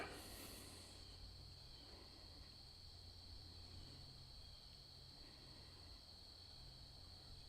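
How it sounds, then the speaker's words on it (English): Crickets chirping in a quiet typical outdoor environment, a faint steady high trill running throughout with low background hum and no talk. "I can hear some crickets, and that's about it."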